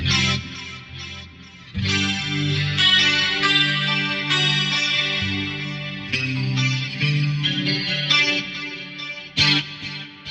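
An electric guitar runs through an 80s-style rack delay that pans left and right, its chorused, shimmering notes ringing out in sustained phrases with repeating echoes at fairly loud volume.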